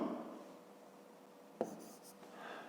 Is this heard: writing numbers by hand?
yes